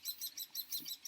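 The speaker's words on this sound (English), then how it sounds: "You can hear the happy birds" Birds chirp in a Vermont permaculture garden with a chestnut tree and edible plants, giving quick, high, repeated tweets at a steady rhythm. They sound faint and somewhat distant.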